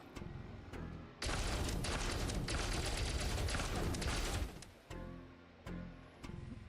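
Ship turret in Elite Dangerous, firing a dense, continuous burst of rapid shots for about three seconds, loud and close, with a few separate thuds before and after.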